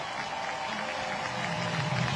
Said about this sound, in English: a huge ovation right now by the crowd